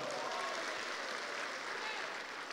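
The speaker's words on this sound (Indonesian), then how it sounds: "Tepuk tangan untuk Anda semua." Seminar audience applauding together in a large room, a dense steady wash of clapping lasting the whole moment at even loudness.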